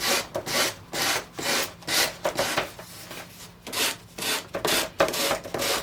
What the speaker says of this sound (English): I'm really focusing my sanding paper on this edge right here, this top edge.